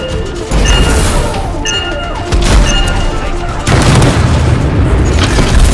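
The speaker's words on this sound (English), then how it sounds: "I think the explosion destabilized the foundry" Detonated explosives go off in the video game Anthem, setting off a series of loud booming blasts and crashes that surge in successive waves with rumbling debris between them.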